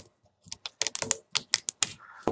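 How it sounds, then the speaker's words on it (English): Tape is peeled in short, sharp crackling bursts from the screen panel of an HP Pavilion dm4 laptop during a screen replacement. The close, quiet ticks and rips come irregularly with no talk. "So then you take off the tape"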